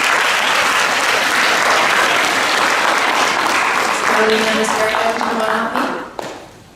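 Sustained, full applause from an audience at a middle school film festival, steady and loud before tapering off near the end, with voices briefly audible as it fades.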